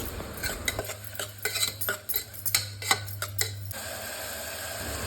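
A spoon stirs turmeric into salted, lightly fried ingredients in a pan for potato curry, giving a series of close scraping and clinking strokes over a soft sizzle, then a quieter hiss at the end.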